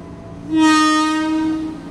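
A commuter train horn blares once at a Jakarta station, a sustained loud tone lasting about a second, over quiet background rumble.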